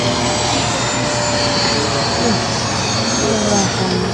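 A Saab J 35 Draken EDF model jet flies at St. George, Utah, its ducted-fan whine forming a loud, steady roar that holds throughout, with faint voices in the background.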